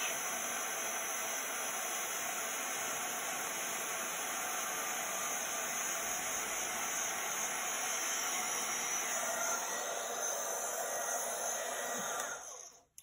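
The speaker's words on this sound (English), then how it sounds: "we're just holding that heat gun still. And then as soon as that embossing powder changes, we are just moving the heat gun over the image" A heat gun blows a loud, steady roar across a card, melting embossing powder, holding constant for about twelve seconds before cutting off abruptly.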